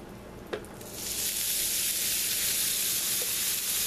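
Shredded potato hashbrowns hit hot oil in a pan with a couple of soft taps, and a loud, steady sizzle builds within a second and holds without talk.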